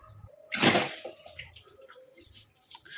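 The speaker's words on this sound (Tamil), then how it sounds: "இப்போ நம்ம இதெல்லாத்தையும் கீழே ஊற்றிடலாம்." Washing water is tipped out of a bowl of karpooravalli leaves in one short, close gush and splash, followed by a few faint drips and small handling noises.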